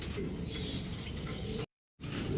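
Pigeons coo and murmur steadily while feeding on pellets, a close, continuous flock chatter with soft wing and pecking noises, broken by a brief gap of silence.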